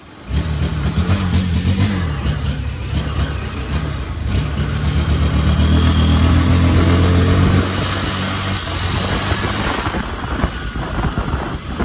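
A Honda CBF motorcycle engine runs loud and steady throughout, with a low droning rumble that swells around the middle as it revs up, then settles back, with road and wind noise around it.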